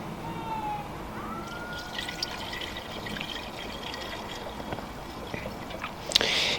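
Coolant pours into the expansion tank of a Vauxhall Corsa petrol engine as a steady, close liquid trickle, with brief faint squeaks and a louder splash near the end.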